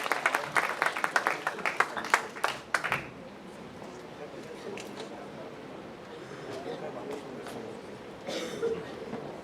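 A chapel congregation claps in a burst of applause that fades within a few seconds, leaving quiet room murmur, with a few scattered claps near the end.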